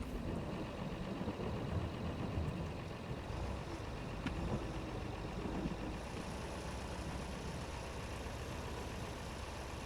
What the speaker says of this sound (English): We might need to raise the skid steer